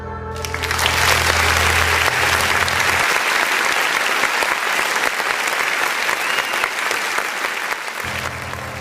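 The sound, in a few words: audience applause in a narrated horror story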